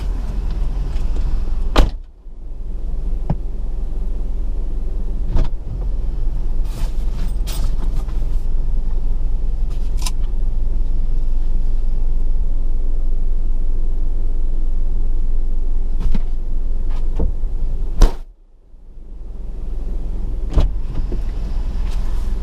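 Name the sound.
car driving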